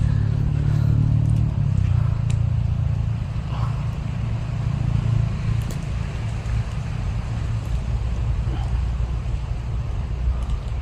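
Vehicle traffic on a nearby highway, a low steady engine rumble with a passing vehicle early on, heard under faint outdoor background and intermittent light noises.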